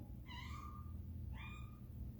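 A cat gives two drawn-out meows, one after the other with a short gap, faint and somewhat distant over low background rumble inside an old church building.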